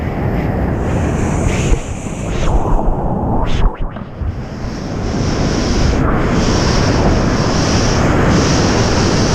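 Strong wind buffets the microphone over a steady wash of ocean surf while hydrofoil surfing, with a brief dip in the roar partway through before the gusts return.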